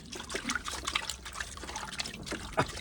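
Dirty, sludgy pond water trickles and splatters out of an APS PFC-500 pressure filter sponge as it is squeezed, an uneven run of wet gushes and dribbles, close and fairly loud.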